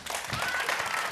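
A brief burst of audience applause, dense clapping at steady volume throughout.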